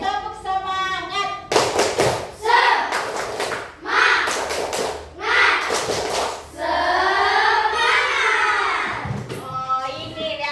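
A group of children doing the rhythmic 'tepuk semangat' spirit chant, sharp claps in patterned bursts mixed with loud shouted chanting, close and energetic, followed by a longer sung-out vocal phrase.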